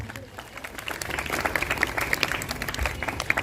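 A church congregation at a feast-day Mass claps to welcome a priest, a moderate spread of many hands with scattered sharper claps over a low rumble, fairly soft and somewhat distant.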